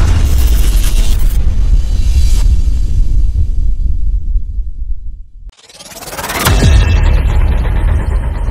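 A car engine rumbles loudly on the way up Narayanagiri hill road near Ramanagara. It runs steadily, cuts out briefly, then picks up again with a rising rev, and no voices are heard.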